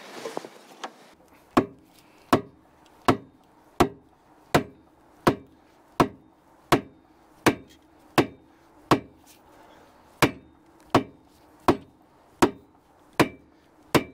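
Steady hammer blows on a stuck part of a locked-up Cat 3306 engine in a track loader, about eighteen sharp metallic strikes at a regular pace, close and loud, with no talk between them.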